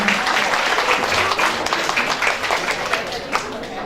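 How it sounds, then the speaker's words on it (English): A conference hall audience claps steadily after a winner is announced, a continuous wash of applause throughout. "Yeah, good applause."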